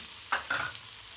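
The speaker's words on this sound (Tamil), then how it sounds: "எண்ணெயிலே போட்டுக்கோங்க அப்போ தான் நல்லா மணமாக இருக்கும்" Curry masala powder fries in hot oil for a goat head curry, with two quick, faint stirring scrapes over a low, soft sizzle.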